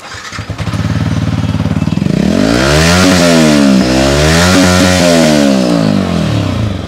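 Yamaha R15 V4 motorcycle fitted with an aftermarket underbelly exhaust, idling then revved hard and held high, its loud raspy exhaust note rising and falling in sweeping pitch up close with no talk.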